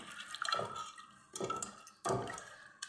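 Soaked split green gram dal is swished and rinsed in water by hand, three faint splashing, sloshing bursts with quiet gaps between them.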